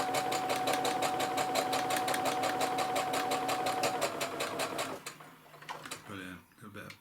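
A sewing machine stitches a new pocket piece into a pair of trousers, a fast, even mechanical ticking that runs for about five seconds and then stops, followed by a voice talking.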